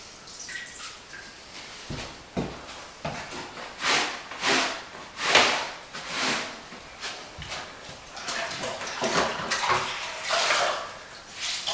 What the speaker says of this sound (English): I'm going to use a slightly damp rag and wash the floor.